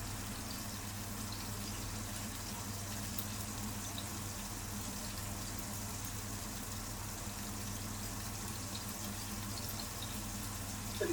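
Onions sautéing in a pan for beef burgers, giving a steady, soft sizzle that holds evenly throughout with no talk.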